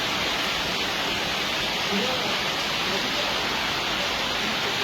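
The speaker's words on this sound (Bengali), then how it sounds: "অনেক বৃষ্টি হচ্ছে" Heavy rain falling in a steady, dense hiss with no breaks, loud and close, while a person talks over it at times.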